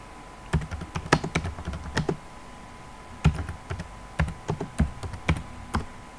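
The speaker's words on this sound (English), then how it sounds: "So currently Mark is going to enter the command net user." Someone types a command on a computer keyboard: close, crisp keystrokes arriving in quick clusters separated by short pauses, with no talking.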